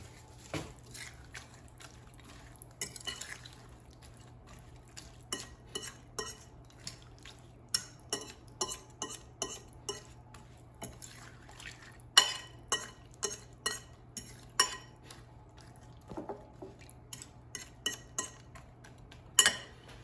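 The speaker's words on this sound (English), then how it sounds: "And now I'm going to add ½ cup of sugar and mix until combined." Sugar being stirred into muffin batter in a bowl, with a steady run of soft clinks and scrapes from a spoon against the bowl, close and quiet over a low background hum.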